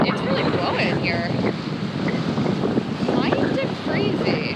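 Strong wind blowing on shore during a sailing trip, a steady loud rush with buffeting gusts on the microphone, a voice talking over it throughout.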